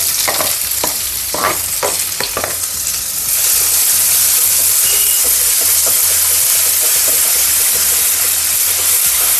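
Onions sizzling in a little oil in a pan for a Korean-style chicken dish. A few clattering stirs come first, then a loud, dense, steady frying hiss fills the rest.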